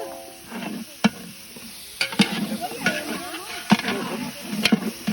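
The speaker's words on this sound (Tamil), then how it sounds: "3 கை புதினா போட்டுட்டோன்னு அப்படியே நல்லா மிக்ஸ் பண்ணுங்க" Fresh mint goes into a large batch of mutton biryani as a spoon stirs through it. Faint scraping, soft sizzling and a few sharp clanks against the pot repeat in an uneven rhythm, quiet and close.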